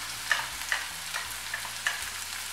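Spring onion and ginger garlic paste frying in a pan while being stirred, a steady soft sizzle broken by about five rhythmic scrapes of the spoon against the pan.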